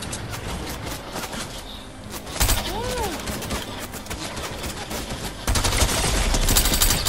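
Rapid gunfire in Fortnite, dense bursts of automatic shots crackling nearly nonstop and growing louder toward the end, with a brief tonal sweep in the middle.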